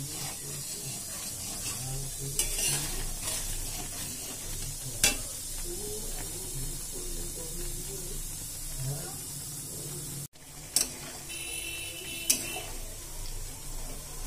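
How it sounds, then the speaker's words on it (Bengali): Ghee cooking down in a pan, a steady close sizzle of frying fat with intermittent scraping and stirring strokes and a few sharp clinks against the pan. "এধারে ঘিটা মেরে নিচ্ছি"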